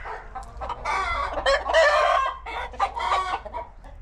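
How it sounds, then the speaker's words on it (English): Chickens clucking close by, several overlapping calls with a rooster crowing among them, busy and fairly loud. "Hey chickens"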